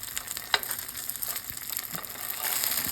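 A sushi burrito wrap frying in a pan gives a close, even sizzle and crackle throughout, with a sharp utensil tap near the start and no voices.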